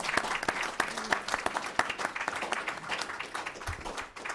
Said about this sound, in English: I'd like to give a big round of applause to our panelists.